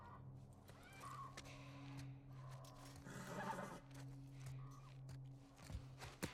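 A horse neighs in a short whinny amid soft hoof steps and a low steady hum in The Last of Us Part 1, fairly quiet and close by.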